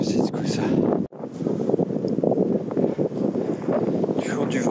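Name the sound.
wind at the mountain summit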